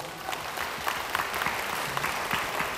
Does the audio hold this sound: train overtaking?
no